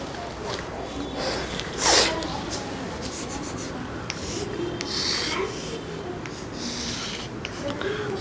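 A pen or pencil scratches and rubs on paper while circles and ticks are drawn for a maths exercise, with soft intermittent strokes and a brief louder scrape, under quiet background noise.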